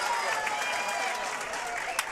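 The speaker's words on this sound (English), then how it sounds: "And a nice round of applause for Macy." Basketball game crowd applauding a player who has just fouled out, a steady broadband patter of clapping throughout with a faint voice over it.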